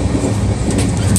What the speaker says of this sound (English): The train is shaking like crazy.